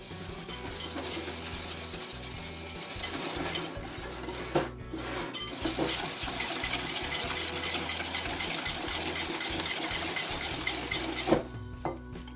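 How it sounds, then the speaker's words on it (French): A whisk beats a whole egg and a yolk together in a bowl, making quick, continuous rattling strokes against the sides for several seconds with a brief pause partway and a short break near the end. "Je mélange."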